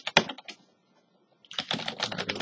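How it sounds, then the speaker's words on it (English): Typing on a computer keyboard: a quick burst of key clicks, a pause of about a second of silence, then a denser run of close, crisp keystrokes. "If I can type."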